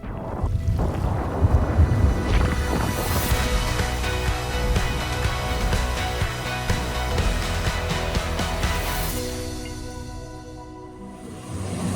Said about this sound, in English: 30 to 40 knots of wind at the moment.